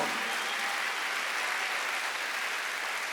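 Steady, dense clapping from a church congregation during a sermon, sustained and even throughout with no pauses or voices over it.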